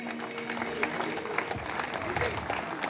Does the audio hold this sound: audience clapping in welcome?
yes